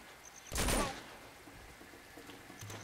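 A single loud gunshot burst in Uncharted 2: Among Thieves, followed by quieter game ambience and faint distant clatter.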